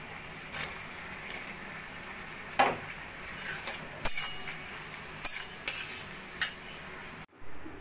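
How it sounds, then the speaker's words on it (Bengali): Water and fried paneer cubes go into a hot pan for chilli paneer, giving a soft steady sizzle broken by repeated stirring scrapes and clinks, with a brief louder burst midway and a sudden drop near the end. "দিয়ে দেবো অল্প করে জল, আর ভেজে রাখা পনিরগুলো"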